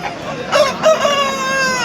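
A rooster crows at an outdoor Sunday poultry market, one loud sustained crow close by over a steady background hum.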